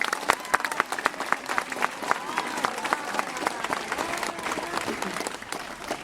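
Enthusiastic applause at a school function, many hands clapping in a dense, lively burst that holds steady and fades slightly toward the end, with a few voices underneath.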